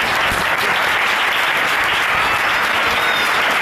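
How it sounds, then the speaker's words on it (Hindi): A convention congregation at an annual prayer week applauds, a dense, loud, steady wash of clapping filling the whole stretch with no talk on top. "तो तालियां आपके लिए बजा सकते हैं।"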